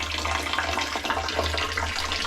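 Water pours steadily from several garden hoses used to water plants in a watermelon field, a continuous broadband rush with low mains-like hum, close and even in level throughout.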